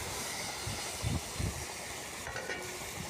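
Dried chilli, whole garam masala and cumin stirred in hot oil, giving a soft continuous sizzle with a few low scraping strokes of the spatula, fairly faint.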